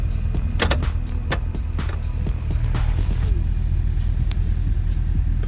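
A Duramax diesel truck engine idles in gear under load with a steady low rumble, while a burst of sharp clicks and clatter rises over it in the first few seconds and then the drone continues alone.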